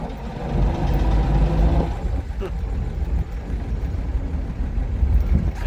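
A 1937 Chevrolet Sport Coupe, a stock original, pulls away in its very low gears, a steady rumbling engine drone running close throughout with a slight shift in tone midway, under someone talking.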